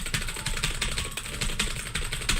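Fast, steady typing on a computer keyboard with switches quieter than a loud clicky blue-switch board, a continuous close stream of keystrokes with no talking.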